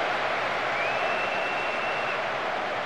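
Football crowd in Pro Evolution Soccer 2011, a steady loud stadium roar and applause filling the whole stretch without pause.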